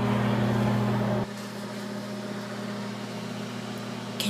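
Steady low hum of a microwave oven running while cooking peanut brittle, loud and even at first, then dropping to a quieter continuous drone after about a second, with a faint click near the end.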